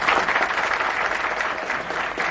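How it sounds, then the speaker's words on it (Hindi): A seated audience at a live performance event claps steadily, a thick, even wash of many hands at moderate loudness throughout the short stretch. "अब बजाइए ताली"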